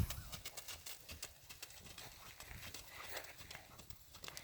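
A horse trots during a riding lesson, its hooves giving a faint, even clip-clop beat that repeats steadily at a distance, with no one speaking.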